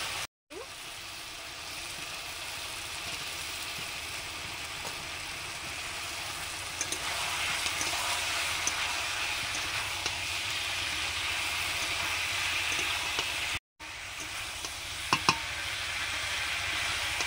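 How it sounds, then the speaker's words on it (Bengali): Cauliflower and potato pieces frying in spiced oil give off a steady, broad sizzle that fills the whole stretch, with a couple of brief cut-outs and a few clinks near the end. "এবারে আলু ফুলকপিটা দিয়ে দিচ্ছি। প্রথমে দিলাম ফুলকপি"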